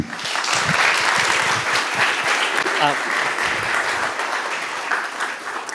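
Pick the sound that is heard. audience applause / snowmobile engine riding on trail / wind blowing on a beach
audience applause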